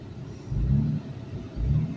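A Lexus engine revs in two short surges with a low rumble between them while the failed transmission leaves the car standing still. The revs are fairly quiet and come about a second apart.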